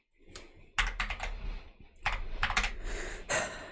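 Bursts of computer keyboard typing as terminal commands are entered, with quick clustered keystrokes separated by short pauses, close and clear with no talking.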